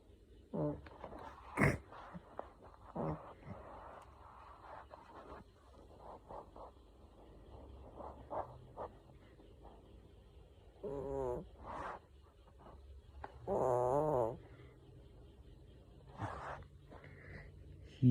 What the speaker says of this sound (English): Can you guys hear him snoring?